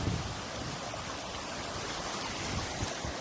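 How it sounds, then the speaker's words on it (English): A river rushes in a steady, even broadband wash at the Whitewater crossing, heard close but fairly quiet, with no voices over it. "We must have crossed this river about 10 times back down the river."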